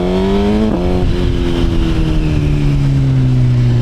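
A 2025 Suzuki GSX-R1000 engine roars loud and close with a strong harmonic whine that shifts abruptly early on, then drifts slowly lower in pitch while staying continuous.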